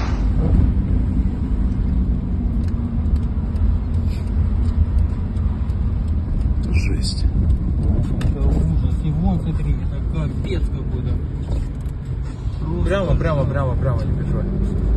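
A car drives through the streets of Kharkiv with a steady, loud interior engine and road rumble running throughout, while people talk inside over the noise.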